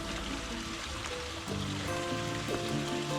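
A small waterfall beside a hiking trail near Kingsport, Tennessee, producing a steady broadband rush of falling water, continuous and moderately close, with no talking.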